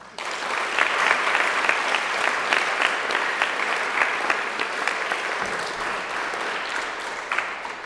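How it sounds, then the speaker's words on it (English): Sustained audience applause at a school honor society induction ceremony, a dense, steady clapping that keeps an even level for the whole stretch with no talk over it. "Let's please give her another round of applause."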